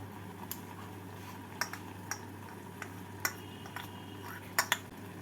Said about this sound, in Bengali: চিজ দিয়ে নাড়াচাড়া করে নেবো